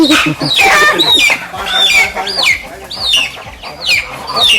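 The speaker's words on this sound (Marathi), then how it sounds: "एखादी कोंबडी पकडतो" Chickens cluck and squawk close by, a busy overlapping run of rising calls and clucks, loud and continuous.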